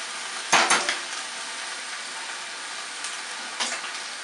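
Spinach sizzling in a pan over a gas flame on a kitchen stove, a steady faint frying hiss broken by a few short clattering stirs of utensil against pan near the start and again later, with no talking.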